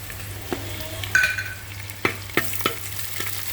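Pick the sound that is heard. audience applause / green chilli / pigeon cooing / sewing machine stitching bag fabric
green chilli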